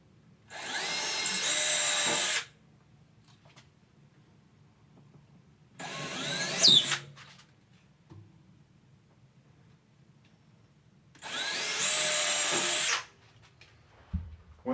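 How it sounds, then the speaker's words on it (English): A power drill bores pilot holes for screws to mount a flat LED ceiling panel. Three separate whirring bursts of about two seconds each come close by, with quiet gaps and small handling knocks between them. "first thing I'm going to do is drill the pilot holes for those screws."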